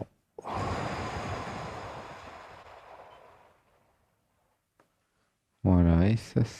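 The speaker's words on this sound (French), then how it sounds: "Une grande inspiration." A long, slow breath out is released after a deep inhale, starting strong and fading gradually over about three seconds into quiet. A voice then begins speaking close to the microphone.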